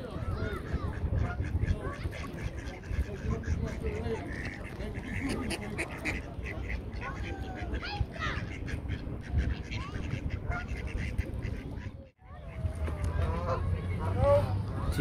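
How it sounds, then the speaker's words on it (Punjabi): Ducks quack at Hollingworth Lake while they are being fed grain. Nearby calls repeat throughout over continuous outdoor ambience, with people talking in the background and a brief dip into quiet near the end. "ਦੇਖੋ ਬਤਕਾਂ"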